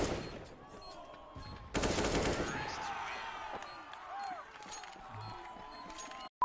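Gunfire from the video game Counter-Strike: Global Offensive breaks out in a sudden loud burst of rapid shots, then trails into quieter scattered shots with a voice faintly present in the background.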